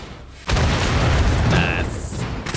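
A loud explosion bursts suddenly in Wolfenstein: The Old Blood after a power cable is pulled, a heavy boom followed by a rumbling, crackling tail with a brief high-pitched ringing tone.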